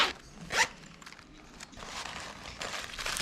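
A zipper on a sticker storage pouch is pulled open in a few quick, close rasping strokes, with a sharp burst near the start and softer zipping after.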